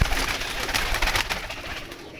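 Pigeons kept in pairs coo close by in a short burst of soft, throaty, repeated calls.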